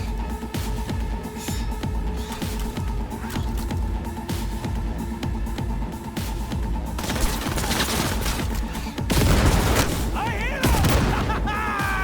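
Cyberpunk 2077 firefight: rapid bursts of gunfire crackle for several seconds, then a heavy grenade blast booms near the end, with a voice talking over the game action.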